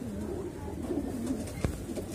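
Madrasi and Punjabi breed pigeons coo in a close, continuous throaty burble, with one brief sharp knock near the end.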